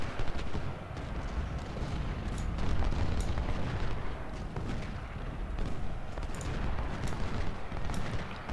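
Artillery and musket fire in the Civil War strategy game Ultimate General: Civil War, a continuous rumbling barrage of overlapping booms and crackling volleys, with distant sharp pops scattered throughout.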